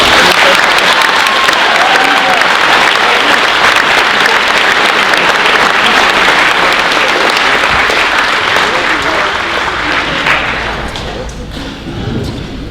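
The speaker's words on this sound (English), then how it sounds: "please join me in a big round of appreciation applause" An audience at a high school graduation class night applauds graduates in a loud, sustained wash of clapping and crowd noise that carries on steadily before easing slightly near the end.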